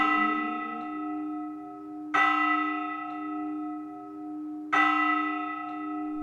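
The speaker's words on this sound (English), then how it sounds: "This bell is presumed to be the oldest in the region of Navarre" The ancient bell in a stone tower in Navarre, cast in 1377, rings twice with slow, evenly spaced strikes, each a loud resonant clang followed by a long humming decay.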